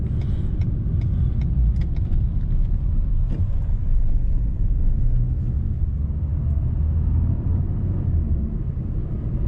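A Renault Captur 1.3 TCe SUV pulls hard from standstill toward 100 km/h, heard from inside the cabin as a loud, steady low engine and road rumble that holds without a break, with no voices.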